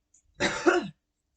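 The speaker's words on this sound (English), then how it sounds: "something about doing these videos just makes me cough" One short, close cough with a rough throat-clearing edge, isolated against silence.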